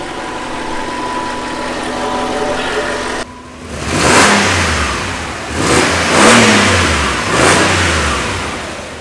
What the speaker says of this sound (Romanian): Deci am plecat la o plimbare cu un motor de 4000.